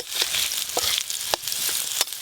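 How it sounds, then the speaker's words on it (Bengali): Taro pieces frying in oil, pressed down in the pan: a steady bright sizzle with a few sharp crackles and spatters, close and continuous, no voices. "চাপা দিয়ে কচুগুলো খুব ভালো করে ভাজবো।"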